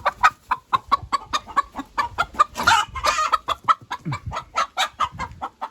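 Hen clucking steadily and rapidly in a farm setting near pregnant cows, a close, loud run of short rhythmic clucks with a brief squawk midway and no talk.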